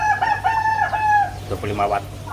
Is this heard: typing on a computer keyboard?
no